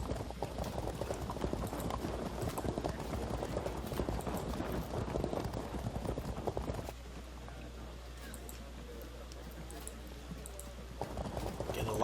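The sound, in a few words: cavalry horses moving in Field of Glory 2 video game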